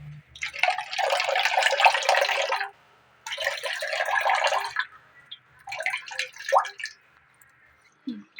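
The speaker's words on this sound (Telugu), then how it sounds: "ఇప్పుడు దీన్ని ఇలా కాటన్ బట్టలో వేసుకొని వడగట్టుకోవాలి" Grated carrot pulp is squeezed through cotton cloth, giving three close bursts of wet splattering drips and squishing, separated by brief pauses, with a small knock at the very end.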